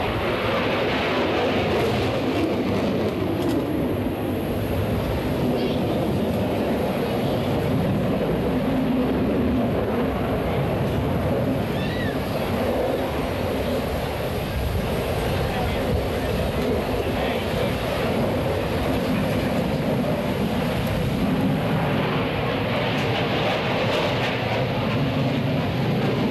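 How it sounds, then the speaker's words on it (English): A Grumman F-14 Tomcat jet fighter makes a very high subsonic speed pass at the 1987 Moffett airshow, a loud continuous engine roar that holds steady and broad for the whole stretch, heard from the crowd line. "Following the split S maneuver, the F-14 will execute a speed pass in the very high subsonic engine."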